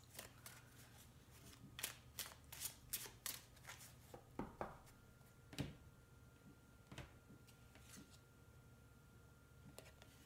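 Tarot cards are shuffled by hand in a quiet room, giving a run of soft, crisp riffles and taps at an irregular rhythm with no talking.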